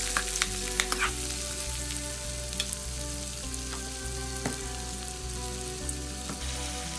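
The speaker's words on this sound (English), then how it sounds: "Add the chopped onions and cook them till they are translucent." Chopped onions sautéing in a pan after garlic, for a South Indian fish curry: a steady, close sizzle and crackle of frying throughout with a few faint stirring clinks, no voices.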